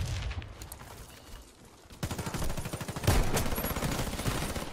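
Rapid automatic fire from an M14 Crazy Horse sniper rifle in the shooter game Warface, played on Nintendo Switch. A quieter stretch gives way to dense, loud, steady bursts of shots that carry on to the end, with no voices.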